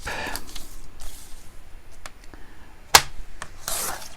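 A paper trimmer cuts a sheet of paper for a card-making craft, giving soft rasping slides and one sharp click, heard close up with no voices.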